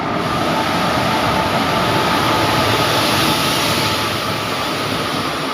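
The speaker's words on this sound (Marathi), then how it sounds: "ट्रेन आली आहे" A train pulls in at Karad railway station, a loud, steady rumble of wheels and rail noise filling the whole stretch with a constant high hiss, no voices.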